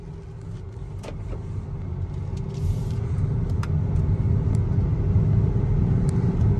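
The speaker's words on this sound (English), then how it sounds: "there's always a nice feeling about a diesel engine car" A 2017 BMW X5 xDrive35d twin-turbo diesel with M Sport package drives past, its low engine and tyre rumble steadily swelling louder over several seconds, with a few faint clicks and no talk.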